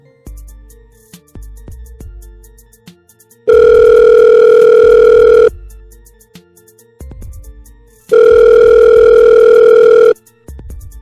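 A cartoon telephone rings in two long, loud electronic bursts separated by a pause, with light knocking and soft background movement between the rings and no talking.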